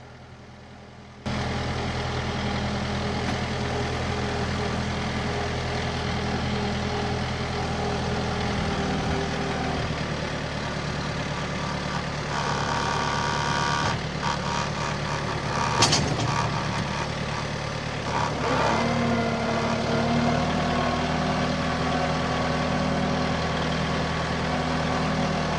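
An LS MT 242 tractor idles in snow with a steady low diesel rumble, close by, easing forward slowly, with a few brief knocks and a faint whine partway through.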